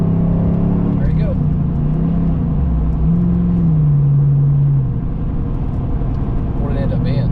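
A 2007–2013 Chevy Silverado crew cab pickup accelerates hard, its engine note climbing steadily and loudly before easing off, with a faint voice in the background.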